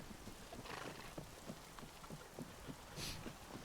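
Steady rain pattering on a surface, with scattered drops and soft patters against a constant wet hiss, heard during a Lord of the Rings tabletop session in the Barrow Downs, a brief hissing gust near the end.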